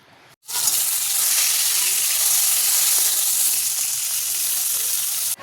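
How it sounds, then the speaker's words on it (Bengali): Fish frying in hot oil in a wok, a sudden loud sizzle that bursts in after a brief quiet moment and then holds as a steady close hiss. "তো এখন চলো কড়াইয়ের মধ্যে দিয়ে দিলাম হচ্ছে একে একে মাছগুলো, গরম তেলের মধ্যে একটুখানি ভাজা ভাজা হয়ে যাক।"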